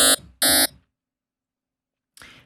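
Two short, harsh, buzzy synth tones from the Harmor synthesizer with a phaser effect sound in quick succession, followed by silence and a brief softer burst at the end.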